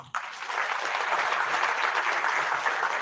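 Warm audience applause welcoming a guest speaker at an engineering career session, a dense, steady clatter of many hands that starts abruptly and holds evenly, fairly faint and without voices.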